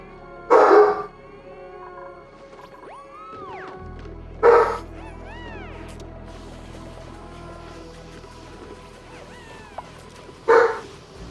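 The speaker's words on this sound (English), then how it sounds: "now my dog is barking?" A standard poodle barking and howling at night: three loud, separated barks with drawn-out howling tones between them, over a steady low background hum.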